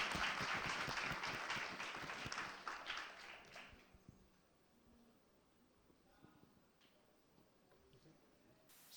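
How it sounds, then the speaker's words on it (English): An audience at a Smile Train event applauds loudly for a few seconds, then the clapping thins out and fades into quiet room noise. "a round of applause for Himalaya and Smile Train"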